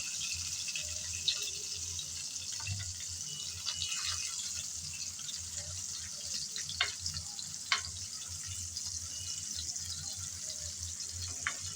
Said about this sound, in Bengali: একটা সাইড লাল লাল করে ভাজা হয়ে গেল।